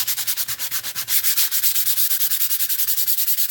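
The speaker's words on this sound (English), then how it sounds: "Now I'm just going to sand it a little bit" Sandpaper rubs back and forth by hand over paper in a craft project, a brisk rhythmic scratching of even, closely spaced strokes that speeds up partway through, close and clear with no talking.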